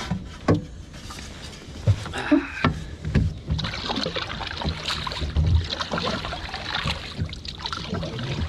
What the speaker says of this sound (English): Long paddling day.